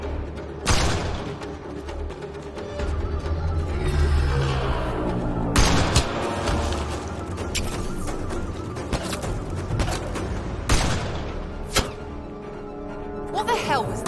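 Gunfire and impacts in the sci-fi shooter Mass Effect Andromeda during a firefight with a sniper, sharp loud bursts scattered through dense combat noise and music, with characters shouting over it.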